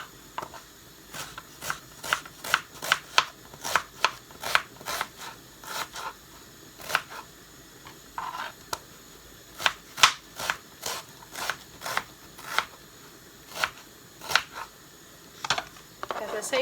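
A knife chopping an onion into quarters on a cutting board, giving a series of sharp close knocks in uneven rhythm, some spaced and some in quick runs, with quiet background between cuts.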